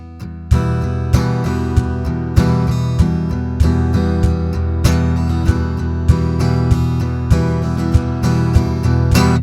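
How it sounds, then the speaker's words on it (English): Strummed acoustic guitar chords with a steady thumping kick from a Drumport laser stomp drum pedal underneath, loud and close, continuous rhythmic playing. "you just hear the guitar and the stomp"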